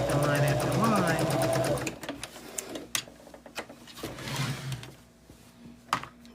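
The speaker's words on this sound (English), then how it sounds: "Not everybody wants to sit there and sew line after line after line after line." Sewing machine stitching a quilted fabric bag: a fast, even mechanical whir runs loudly for about two seconds and stops, followed by a quieter stretch with speech and light handling clatter.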